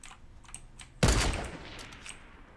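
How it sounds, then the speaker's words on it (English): A single sharp sniper shot in Fortnite cracks out midway and rings off into a tail, preceded by faint soft clicks and quiet background noise, with no talk. "we're in a little sniper battle here"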